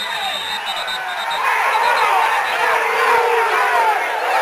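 Washington-Wilkes fans at a high school football game roar in a loud, swelling crowd cheer that builds midway and stays sustained, with whoops and indistinct shouting mixed into the din.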